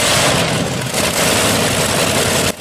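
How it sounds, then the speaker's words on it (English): Customized tractor powered by a Curtiss-Wright R3500 18-cylinder aircraft engine, started up in cold weather, giving a loud, dense, rumbling roar that holds steady and then dips briefly near the end. "customized Herbie tractor started up impressively in cold weather."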